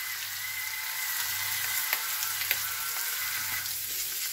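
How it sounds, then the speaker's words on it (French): Langoustine tails sizzle in Breton butter in a hot pan, a steady close frying hiss with faint crackles and light pops, without talk. "On a une poêle chaude, un beurre breton évidemment."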